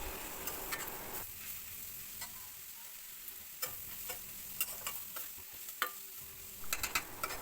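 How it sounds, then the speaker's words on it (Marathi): Jackfruit vegetable fries over low gas in a pan, a soft steady sizzle broken by repeated scraping taps of a spoon stirring, close and fairly quiet with no voices. "स्लो गॅसवरती भाजी मस्त अशी परतून घ्यायची आहे।"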